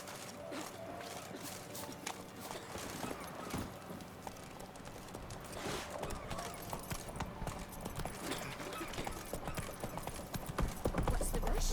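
Horse hooves galloping in The Witcher 3, a rapid rhythmic clip-clop of hoofbeats running steadily throughout over game ambience, with some game sound and background noise mixed in.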